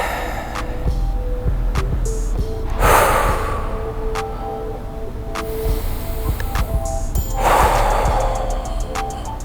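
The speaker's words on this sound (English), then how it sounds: "I need to just breathe in." Heavy, loud breaths during a TRX suspension-trainer workout, two long rushing exhales spaced several seconds apart over a steady background hum, with small clicks and creaks between them.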